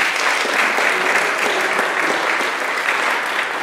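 Church congregation applauding during a Sunday service, a steady, full burst of clapping from many hands heard up close for a few seconds.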